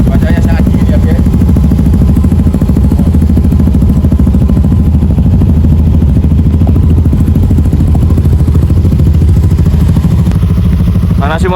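A motorcycle engine on a mountain road trip rumbles loud and close, holding a steady, unbroken drone for the whole stretch.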